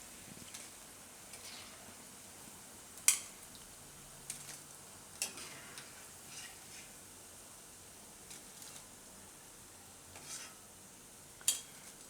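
Idli batter bondas deep frying in oil give a faint, steady sizzle throughout, broken by a few sharp utensil clicks and taps.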